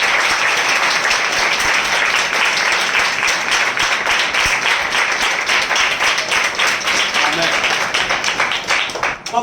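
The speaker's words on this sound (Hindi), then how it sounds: "हम जोरदार तालियों से उनका स्वागत करें।" A church crowd at a Spiritual Passion Assembly claps loudly to welcome fellow believers, rapid individual claps merging into sustained, vigorous applause that continues for several seconds before tapering off.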